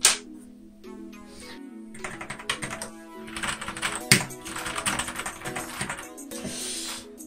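Someone types on a Xenics Titan Mark V mechanical keyboard fitted with blue switches, producing bright, clicky keystrokes in irregular bursts and short pauses, close and crisp throughout.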